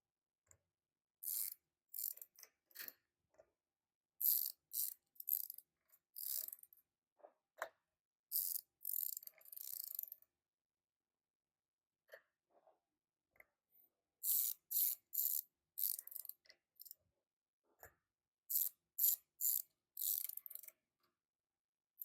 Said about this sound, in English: continue the operation until you have loosened all the bolts